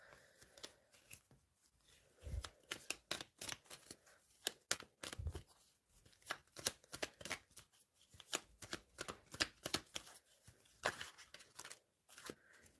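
Tarot cards are shuffled and handled up close during a reading, giving a series of crisp, irregular riffles, flicks and slaps. No one speaks.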